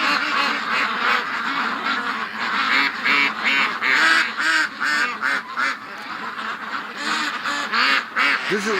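Hundreds of ducks crowd around a metal shed in the bush at night, quacking loudly in rapid overlapping bursts that rise and fall without pause.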